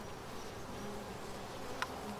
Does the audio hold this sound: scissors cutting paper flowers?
no